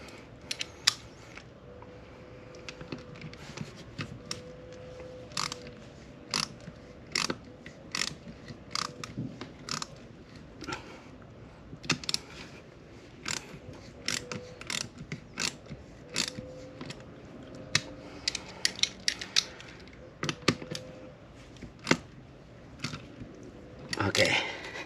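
Socket ratchet clicking in repeated short bursts while tightening an oil drain plug on an H22 cylinder engine, crisp pawl ticks close up with pauses between runs.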